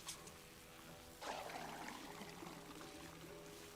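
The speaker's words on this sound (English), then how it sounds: "Now I can water it." Water pours from a watering can in a soft, steady stream that starts suddenly after a quiet opening and runs on, faint and close, gradually easing.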